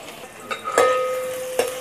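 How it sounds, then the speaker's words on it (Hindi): Chopped onion hits hot spiced oil in a pan for mutton daliya, giving a couple of sharp sizzling bursts and a light stirring clatter, close and alone with no talk. "अब हम इसमें कटा जो प्याज रखा था वो डालेंगे।"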